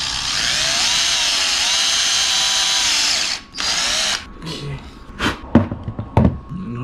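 A power drill whines loudly and steadily for about three seconds while drilling holes for a Forza 350 scooter phone holder, stops briefly, runs again, then gives way to a few sharp clicks and knocks.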